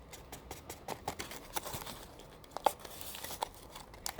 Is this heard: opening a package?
yes